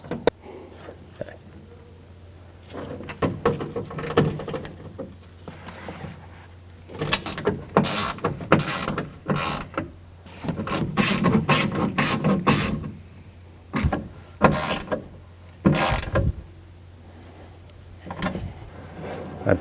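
A window regulator in a 1997-2004 Dodge Dakota door is cranked by its handle, giving repeated close mechanical grinding and scraping runs with sliding clunks, starting and stopping in bursts over several seconds.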